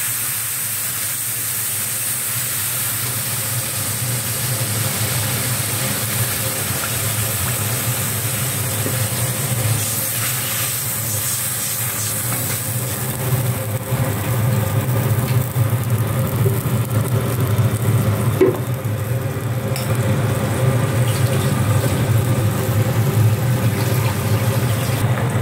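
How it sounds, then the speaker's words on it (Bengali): A thin Bengali hilsa fish curry broth with spices boils in a pan, giving a steady, fairly loud bubbling hiss that continues evenly throughout with no talking. "তো ঝোল ফুটে গেছে"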